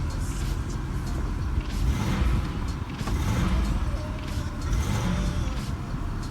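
A used GM car at a Copart salvage yard, put in gear, rolls under its own power with a steady low engine rumble and occasional mechanical creaks.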